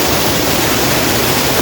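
Ashoka waterfall pours in a loud, unbroken roar of rushing water heard from close by, steady and dense with no voices over it.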